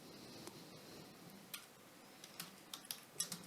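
Light taps on a computer keyboard, faint and close, sparse at first and then quicker and sharper clicks toward the end over a soft room hiss, with no talking.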